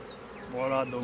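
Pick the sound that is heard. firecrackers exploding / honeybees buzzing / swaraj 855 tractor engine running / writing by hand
honeybees buzzing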